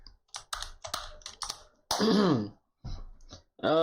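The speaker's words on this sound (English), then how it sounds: "I got a new keyboard and it sounds super crispy, right?" Rapid, crisp clicking of a new computer keyboard being typed on, close and fairly loud, in several short bursts broken up by a voice talking in between.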